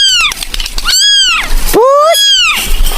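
A cat gives several loud, close, drawn-out meows in quick succession, standing alone without talk.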